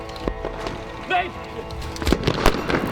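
An airsoft grenade bursts during a milsim skirmish, a sharp pop followed by further bangs amid outdoor noise, with players shouting over the action.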